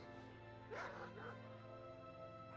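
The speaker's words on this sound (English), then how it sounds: "And we'll bark." A hunter's pet in World of Warcraft gives a short, mid-loud bark during a Wrath of the Lich King dungeon battle, one brief yelp over constant background game music.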